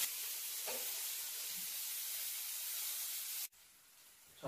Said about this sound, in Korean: 달궈진 팬 위에 버터를 넣어줄 거예요